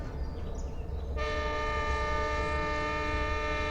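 A train rumbles steadily past, then a loud sustained multi-tone horn blares and holds for several seconds, close by.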